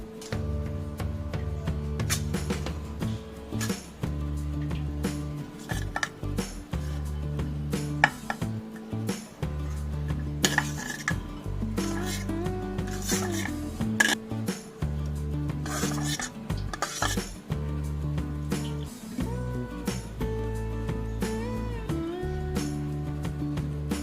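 Dishes and a spoon clink and scrape as sweet aval, a flattened-rice sweet, is moved into a bowl. Repeated close metallic taps and rubbing sounds come in uneven bursts over steady background music.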